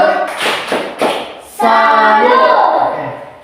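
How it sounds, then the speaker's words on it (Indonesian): A school class performs a rhythmic clapping cheer, a few sharp group claps in time, followed by the class chanting together loudly and up close. "tepuk salut untuk kamu semua"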